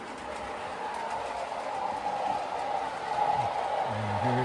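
A model train runs at about 8 volts along permanently laid track, a steady mechanical whir and rumble with a humming tone, holding fairly even and growing slightly louder near the end.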